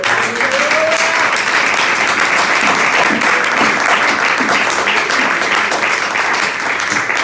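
A church congregation at a Sunday service claps in praise, dense and loud applause filling the room steadily from start to finish, with no voice standing out.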